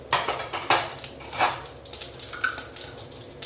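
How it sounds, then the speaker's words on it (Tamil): A kadai set down on a stove, giving a few sharp metallic clanks and knocks with lighter utensil clatter between them, close and fairly loud. "இப்போ ஒரு கடாயம் வச்சுருக்கேங்க"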